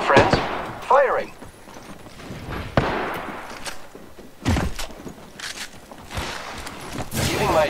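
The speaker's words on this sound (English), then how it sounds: "I am taking fire, friends. Firing." Gunfire in the video game Apex Legends arrives as scattered sharp shots and thuds at uneven intervals, some distant and some closer, amid in-game movement noises and a voice in the background.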